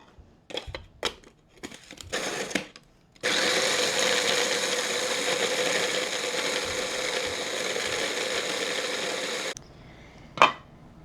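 An electric grinder grinds cheesecake crust ingredients into a sandy crumb, a loud steady whirring roar of several seconds, framed before and after by clattering and clicking as the container is handled.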